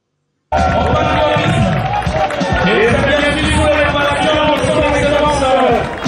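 Crowd at a Gabon national unity day parade with the Cameroonian community, clapping and cheering as a dense continuous wash, mixed with voices and babble that rise over the noise.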